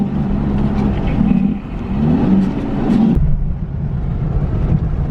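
A semi truck with a sleeper cab idles close by, its exhaust giving a loud low rumble that swells and dips, then settles into a steadier drone.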